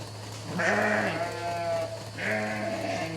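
Sheep on a sheep farm let out two long, loud bleats close by, one after the other, over a steady mechanical hum in the barn.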